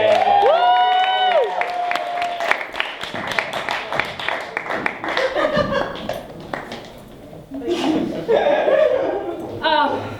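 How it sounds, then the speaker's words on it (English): A comedy club audience at a stand-up show claps and cheers steadily, with laughter and scattered whoops rising through a dense, lively crowd roar. "Please give a warm round of applause"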